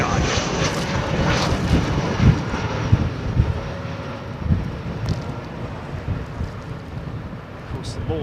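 An airliner departing London Heathrow Airport gives a loud, rumbling engine roar mixed with gusty wind buffeting on the microphone, rising and falling in bursts throughout.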